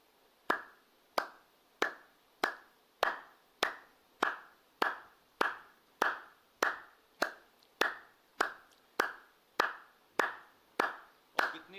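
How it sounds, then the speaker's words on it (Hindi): Hands clap in clap yoga (tali yoga): about twenty sharp, evenly spaced claps, each with a brief room echo, with no voices between them. "ताली योग ऐसे करो, ये हाथ ऐसे होने चाहिए"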